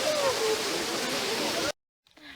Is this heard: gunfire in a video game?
no